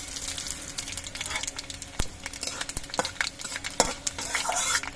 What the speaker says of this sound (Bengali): তেজপাতা শুকনো লঙ্কাটাকে একটু ভেজে নেব